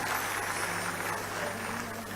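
An audience at a political speech applauds loudly for Keshav Bhai, a sustained, even wash of many hands clapping together with no break.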